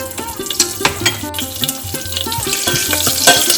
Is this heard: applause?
no